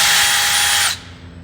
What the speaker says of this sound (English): Used the wrong drill.